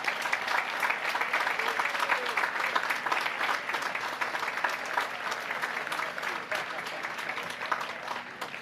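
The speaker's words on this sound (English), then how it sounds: "we could give them a nice round of applause and a warm welcome" A high school commencement audience gives steady, sustained applause welcoming class of 1971 alumni, a dense wash of clapping from a large crowd in a hall that slowly softens toward the end.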